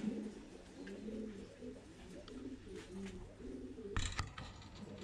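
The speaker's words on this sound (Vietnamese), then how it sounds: "đây là dòng chim bồ câu Titan siêu thịt của Thái nha mọi người nha" Thai Titan meat pigeons in a farm loft cooing in soft, repeated low warbling phrases, several birds overlapping steadily, with a brief louder flutter or clatter near the end.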